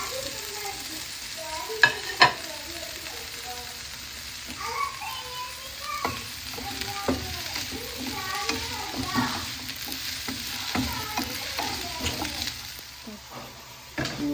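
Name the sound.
onion, garlic, ginger and curry leaves frying in a pan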